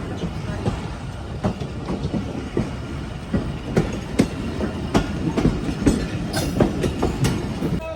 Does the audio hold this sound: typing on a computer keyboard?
no